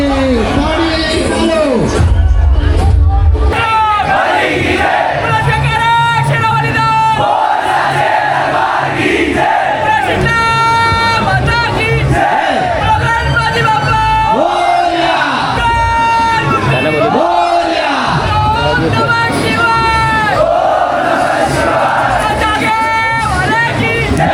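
A large outdoor crowd at a Dahi Handi festival in Dadar, Mumbai, cheering and shouting loudly and continuously after a five-tier human pyramid, with DJ music and an announcer's voice mixed into the dense roar.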